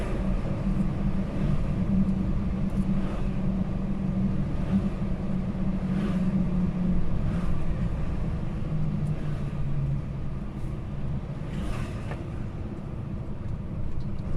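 Low rumbling traffic of passenger cars at the Dover ferry port, a continuous near drone of idling and slowly moving vehicles with occasional faint clatters, no talk over it.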